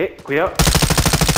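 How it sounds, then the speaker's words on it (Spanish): Rapid automatic gunfire from Call of Duty: Modern Warfare II bursts out loud and close, a fast even string of about a dozen shots after a brief spoken warning at the start. "Están disparando, me están disparando."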